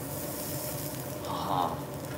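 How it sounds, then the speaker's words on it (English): A steady, close sizzle of Japanese wagyu beef with tare searing on a yakiniku grill, a continuous crackling hiss that swells briefly. "Let's put this on the grill here. I can already hear it starting to sizzle."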